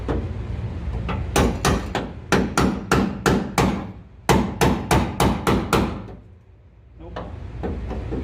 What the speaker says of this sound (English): Snip this off with the chisel.